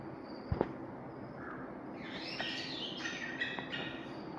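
Small birds such as sparrows chirp in a zoo aviary at Kaunas Zoo in Lithuania, giving light, scattered tweets and short calls at moderate distance over a steady background hum, with a couple of sharp knocks early on.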